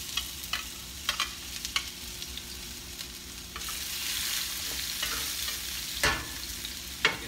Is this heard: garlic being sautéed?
yes